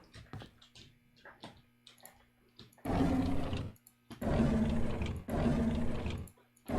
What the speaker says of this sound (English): that does sound like a lion